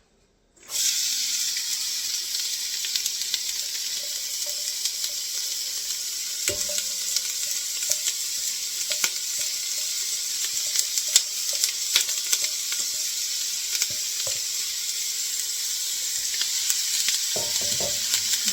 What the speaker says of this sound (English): so we're going to go ahead and saute these onions